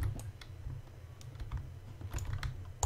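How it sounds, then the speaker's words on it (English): Rapid clicking from a player in Minecraft PvP combat, a quick, close, irregular patter of key and button clicks that runs steadily without talk. "I can hear you clicking like mad"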